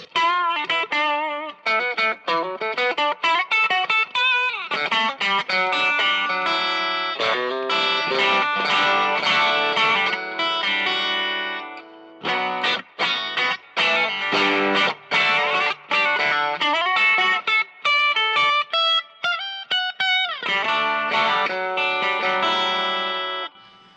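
A Stratocaster electric guitar with its pickups wired out of phase plays loud, continuous chords and riffs through a distorted, effected tone, giving a thin, nasal sound with a few brief pauses.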